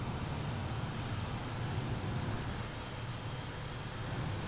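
A video game aircraft's engine drones steadily as the plane taxis, a continuous broadband roar at an even level with a faint high whine and no talking.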